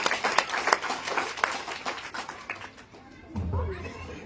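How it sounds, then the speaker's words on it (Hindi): Gathered listeners break into clapping, a ragged burst of hands that fades out over a few seconds before a low voice and room noise take over. "तालियां बजा दीजिए"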